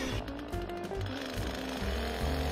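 A chainsaw engine drones loudly and steadily up close, its pitch shifting slightly as it bites and works through a log, cutting it into firewood rounds.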